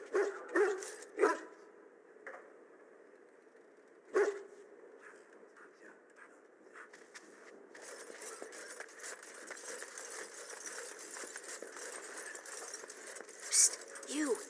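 A Mabari war hound in the fantasy game Dragon Age: Origins barks a few times near the start, then game ambience and murmuring voices take over with occasional sharp sounds.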